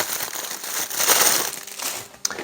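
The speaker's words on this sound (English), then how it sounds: "The Bald Buddy will come wrapped in a plastic bag." A plastic bag rustles and crinkles steadily as a product called the Bald Buddy is pulled out of it, with a close, continuous crumpling sound and a small sharp tick near the end.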